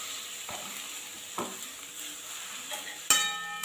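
Beetroot curry with chopped coriander leaves being stirred in a pan: a few soft scraping strokes over a low sizzle, ending in a sharp metallic clink of the utensil against the pan.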